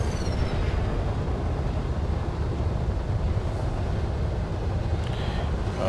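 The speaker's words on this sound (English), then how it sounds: "The engine sound is different" Eagle spaceship engine in Elite: Dangerous, a steady low roaring rumble with a windy hiss, constant and close throughout with no talk.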